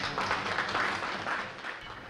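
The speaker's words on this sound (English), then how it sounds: "Please give her a round of applause." A gala audience at a fundraising dinner bursts into applause, a dense, steady wash of many hands clapping at once that holds fairly loud from start to finish.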